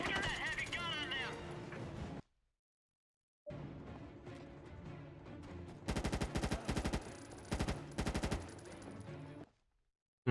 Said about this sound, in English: We need to get that heavy gun on them!